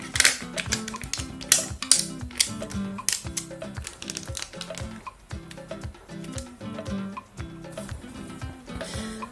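A sheet of aluminium foil is folded in half for a foil bird craft, giving close, busy crinkling and tapping with quick irregular clicks throughout and no talk.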